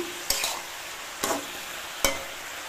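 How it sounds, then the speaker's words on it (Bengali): A ladle stirs rohu fish pieces with bottle gourd in a frying pan, giving three separate scraping strokes about a second apart, each over a steady close sizzle. "এই হাতা দিয়ে নাড়ছি, ভেঙে ভেঙে দেবো"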